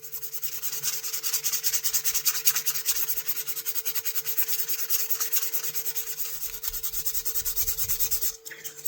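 Hand sanding a wooden Ulster knife handle smooth, a rapid rhythmic back-and-forth rasping of sandpaper on wood, close and steady with even strokes throughout and a steady hum beneath.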